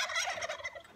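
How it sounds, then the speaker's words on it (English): Chickens cluck and call in a brief burst from a coop, a close, bright run of fowl vocalizations with no talking. "release the chickens"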